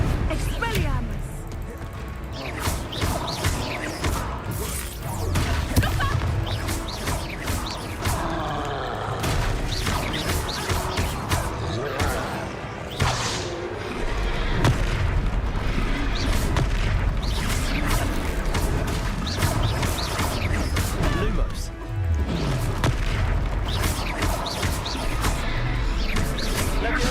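Spell impacts from Hogwarts Legacy combat: repeated booming, crashing hits and blasts in a dense, loud stream of game action, with voices talking over much of it.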